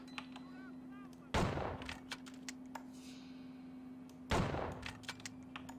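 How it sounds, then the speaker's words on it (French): Two loud gunshots from the video game Outlaws, each a sharp blast followed by a brief rumbling tail, a few seconds apart over a quiet steady hum. "Je tire sur le gros"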